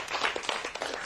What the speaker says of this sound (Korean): 이럴 땐 박수 한번 치고 합시다.